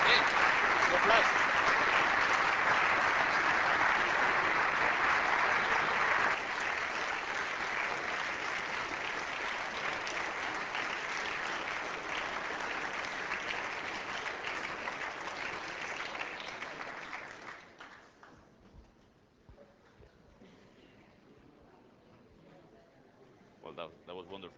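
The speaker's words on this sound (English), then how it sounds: "Hey, applause." A large audience applauds at CERN after Stephen Hawking's lecture, dense clapping that slowly thins and dies away near the end, leaving a quiet room with faint stray sounds.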